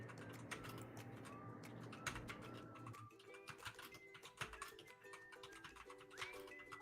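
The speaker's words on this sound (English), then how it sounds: "I could hear my keyboard clacking." A computer keyboard clacks faintly during a home livestream, giving sparse, irregular taps and ticks spread across several seconds over a low background hum that drops away midway.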